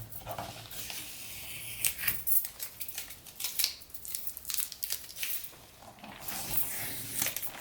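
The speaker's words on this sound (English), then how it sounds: "And now we can remove the tape." Tape being peeled away from a graphite floral print made on a gel plate, heard as a series of close, crisp tearing and crackling pulls of uneven length, loud and soft by turns, with no voices.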